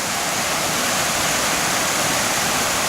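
Water cascades down a small gorge beside a hiking trail on the Bartram Trail, a dense, unbroken rushing roar that stays close and even throughout with no voices.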